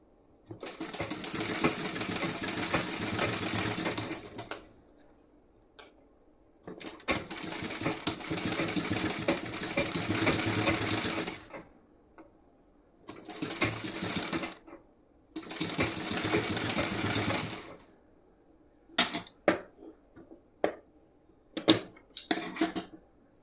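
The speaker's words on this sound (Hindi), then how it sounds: "तो यहाँ पे मैं थोड़ी पक्की सिलाई लगाऊंगी इस तरीके से।" A sewing machine stitches fabric in long, steady runs of about four seconds each with short pauses between them, then gives several quick, brief bursts near the end. It is close and clear, with no talking.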